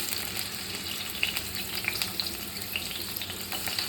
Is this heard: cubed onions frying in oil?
yes